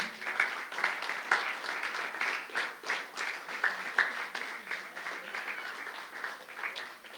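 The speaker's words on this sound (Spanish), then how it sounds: "Démele un aplauso al Señor." A crowd applauds at a men's church conference, steady dense clapping from a large audience with a few louder swells, filling the room without speech.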